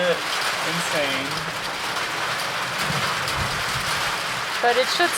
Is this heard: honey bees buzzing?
no